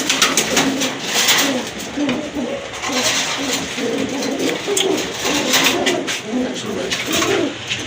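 Pairs of pigeons coo repeatedly at close range with soft, throaty rolling calls, while people talk nearby.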